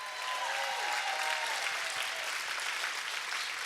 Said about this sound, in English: stand up and clap for this man